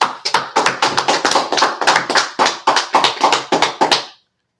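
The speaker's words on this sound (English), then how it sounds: "All right, let's clap it up." A small group of people clap their hands in a brisk, fairly regular series of sharp claps lasting about four seconds, loud and close, with nothing else heard.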